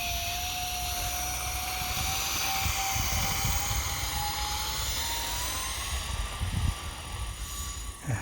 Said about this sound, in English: This thing needs a bit of runway, but man, it sounds so good and it looks so good in the air.